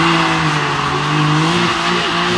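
An all-wheel-drive drag car launches hard at a drag strip, a loud sustained engine roar with rising pitch near the end.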